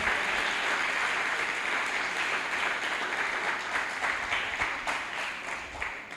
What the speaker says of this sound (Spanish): ¿Le puede dar un aplauso al Señor?